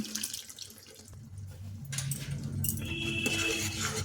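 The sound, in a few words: pouring a little water into sprouted moong curry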